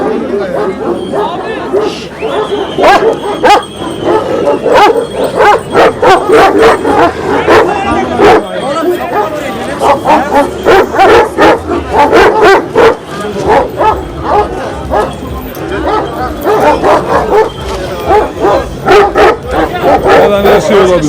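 Many Kangal (Anatolian shepherd) dogs bark at a breed standard competition, a crowded outdoor scene with dense, overlapping barks and yips from near and far, mixed with people talking and chatter throughout.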